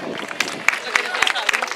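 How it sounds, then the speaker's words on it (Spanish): A crowd claps for a Ford M8 Greyhound armoured car at a Pointe du Hoc assault reenactment outdoors, with sharp scattered hand claps over a windy background while an announcer speaks. "Un aplauso para el blindado"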